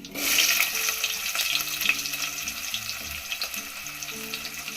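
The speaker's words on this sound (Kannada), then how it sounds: "ಒಣಮೆಣಸಿಕಾಯಿ ಸ್ವಲ್ಪ ಫ್ರೈ ಆಗ್ತಿದ್ದಂಗೆ ನಾವು ಈರುಳ್ಳಿ ಸೇರಿಸ್ತಾ ಇದ್ದೀವಿ" Dried red chilies and onions sizzle in hot oil in a pan, after cumin, while making majjige sambar (buttermilk sambar); a steady, close, hissing fry runs throughout with no talking.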